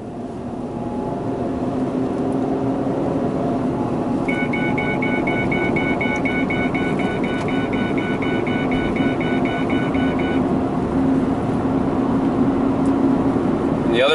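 Ford Escape driving on a test drive, its engine and road noise a steady, loud cabin drone, with a repeating electronic chime sounding through the middle stretch.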